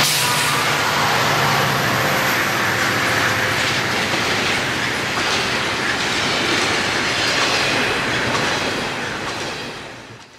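A train rolls loudly past at close range on a busy rail line in suburban Chicago. A steady roar of wheels and rail clatter runs for the whole stretch, with no voices, before easing off at the end.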